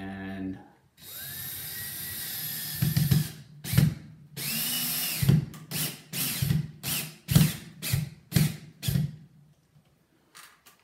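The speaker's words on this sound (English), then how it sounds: "go ahead and get your screws that came with the vent, and we are going to put those in." A power drill drives the screws supplied with a new ceiling vent into the ceiling, with a steady whirring run followed by a series of short, sharp bursts, each ending in a clunk, close and loud.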